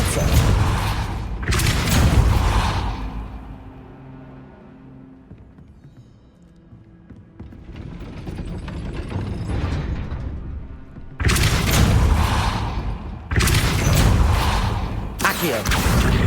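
A Depulso spell cast in Hogwarts Legacy: heavy, forceful magical blasts with booming low-end impacts, several loud bursts near the start and again toward the end around a quieter middle stretch of rumbling game sound.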